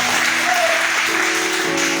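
Brief burst of audience applause at an afternoon gathering, a loud, even wash of clapping with faint tonal sounds underneath.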